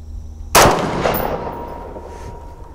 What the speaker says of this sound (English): Well, let's fire the rest of the five we have in here.